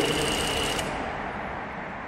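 Sewing machine running steadily while stitching a button-up shirt seam through three fabric layers, a continuous close mechanical whir with no pauses, fairly loud and alone.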